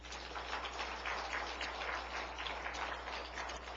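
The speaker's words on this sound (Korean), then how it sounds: "박수 한번 쳐주세요" A church congregation at a Korean Sunday afternoon service claps steadily for several seconds, a dense even patter of many hands over a low hum, with no voices.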